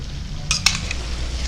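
A spoon stirring and mixing paneer gravy in a pan, with two sharp metallic clinks against the pan over a steady low sizzle and hiss.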